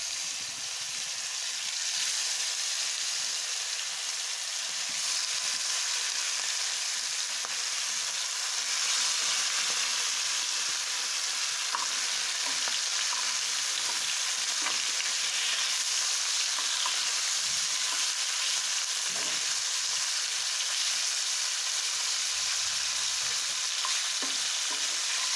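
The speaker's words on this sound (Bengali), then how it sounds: "আমি এখন সুন্দর করে মাছগুলো হালকা করে ভেজে নেব" Fish pieces fry in hot oil with vegetables, giving a steady, loud, close sizzle that runs unbroken throughout, with occasional small pops and stirring clicks and no voices.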